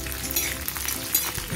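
Garlic dropped into hot oil in a pan while making Sangli-style kharda chicken, giving a steady, close sizzle and crackle with a few faint clinks, and no talking.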